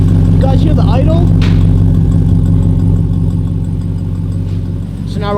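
Jeep Wrangler 392 V8 with a Magnaflow cat-back exhaust idling loud and close, a deep steady rumble with people talking over it.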